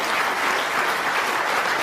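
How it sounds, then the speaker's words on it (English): Sustained audience applause fills the Crucible Theatre after a snooker frame is won at the 2018 World Championship, a dense steady clatter of many hands held at an even level throughout with no talk. "Good round of applause."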